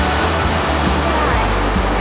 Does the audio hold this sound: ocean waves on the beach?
yes